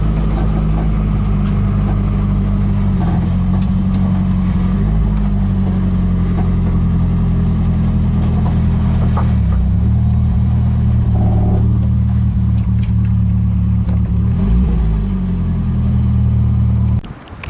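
A car engine with a front-end geometry fault runs steadily and loudly throughout, with a few shifts in pitch as it speeds up and settles, then cuts off abruptly at the end.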